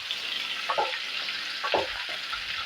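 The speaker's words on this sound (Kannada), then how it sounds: "ನೋಡಿ, ಇವಾಗ ಈರುಳ್ಳಿ ಫ್ರೈ ಆಗಿದೆ" Sliced onions sizzle steadily in a hot pan, close and moderately loud, with a few soft stirring scrapes breaking through the constant frying hiss.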